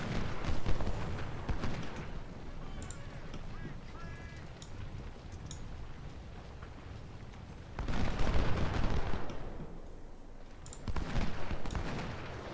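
Artillery and musket fire in the Civil War game Ultimate General: Civil War, with distant booms and crackling volleys that swell in bursts over a steady battlefield rumble, faint and far off, and no talk.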